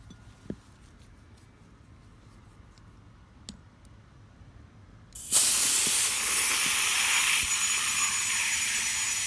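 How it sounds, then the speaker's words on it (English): After a few faint clicks, an air chuck opens with a loud, sudden blast of hissing air into a tire to seat the bead, then holds as a steady, close rush until the end. "We'll grab our air chuck."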